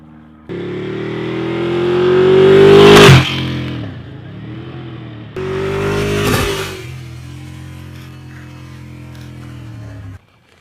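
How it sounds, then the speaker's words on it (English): Motorcycle revving and riding over phones in a drop test, heard as two rising engine bursts, close and loud, each peaking then dropping back to a steady idle. "Let's go ahead and see how these compete versus a motorcycle."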